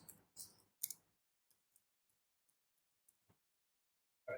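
A computer mouse clicks several times, faint and sparse, with irregular single clicks spaced through an otherwise quiet room after a brief burst of louder noise at the start.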